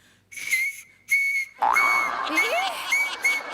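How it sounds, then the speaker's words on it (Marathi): A pen cap blown as a whistle gives shrill, piercing blasts, three short repeated bursts followed by more whistling over loud crowd noise and laughter on a comedy stage. "ते हे शिट्टी वाजवता येते ना अशी"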